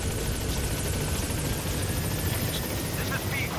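A helicopter arriving in a video game: a steady, loud rotor-and-engine drone that fills the whole stretch, with voices faintly under it.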